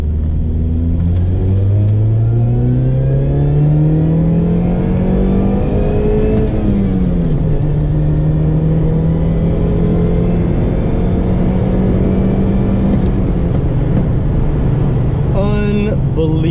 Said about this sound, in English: I mean, that supercharger whine is insane.